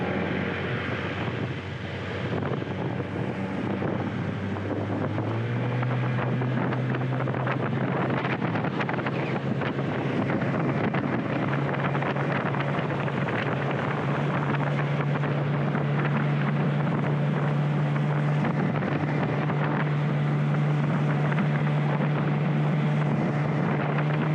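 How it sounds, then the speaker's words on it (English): A big two-stroke outboard motor pushes a small jon boat at speed, a loud steady buzzing drone that climbs in pitch after the throttle opens and then holds high, with wind rushing across the microphone throughout. "Man, this boat rips"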